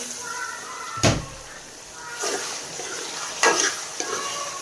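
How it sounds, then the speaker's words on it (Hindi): Peas being stir-fried for Chinese rice, with a continuous sizzling hiss and a few sharp scraping stirs against the pan, heard close with no one speaking. "इसको भी हम भून लेंगे अच्छे से।"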